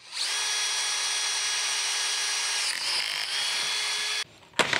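Close, loud and continuous, a power drill bores holes through a Jeep Wrangler JL tailgate trim panel, whining steadily for around four seconds with a brief dip before cutting off, followed by short clunks.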